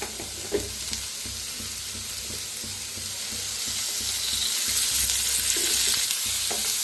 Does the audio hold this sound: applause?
no